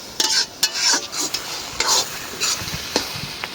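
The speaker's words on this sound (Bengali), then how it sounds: "মাছের ডিম ভাজায় অনেক তেল লাগে।" Rohu fish roe frying in oil, stirred with a spatula; a close, steady sizzle under quick irregular scraping strokes against the pan, with no talking.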